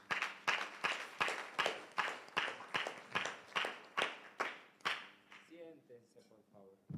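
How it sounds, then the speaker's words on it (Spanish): A church congregation claps in unison at a Spanish-language Mass, about a dozen firm, evenly spaced claps that end as the room falls quieter, with faint voices at the close. "Palmas, hermanos."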